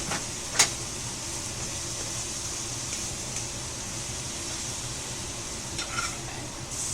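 Lion's mane mushroom with marinade sizzles in a pan as a steady hiss with a few sharp crackles and light scraping near the end, and no one speaks.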